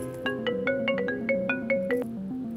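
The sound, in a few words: phone ringing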